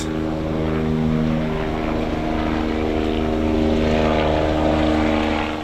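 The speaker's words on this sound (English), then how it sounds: "a distinct whirl of helicopters overhead" Helicopters whirring overhead at an outdoor public funeral gathering in New Zealand, a steady droning rotor hum that stays constant and fairly loud throughout.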